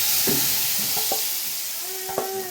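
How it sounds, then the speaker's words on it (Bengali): Spice paste mixed with yogurt drops into hot oil and ghee, giving a loud, dense sizzle that fades slightly, with a few stirring scrapes and clinks close by. "সেই মশলাটা সম্পূর্ণ এই তেলের মধ্যে ছেড়ে দেবো"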